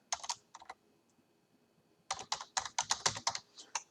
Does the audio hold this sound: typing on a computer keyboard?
yes